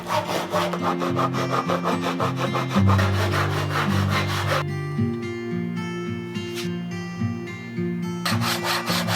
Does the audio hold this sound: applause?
no